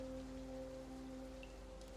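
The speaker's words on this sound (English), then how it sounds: "as we listen in on the rain" Steady, soft rainfall patters over a low, constant droning tone, with no voices.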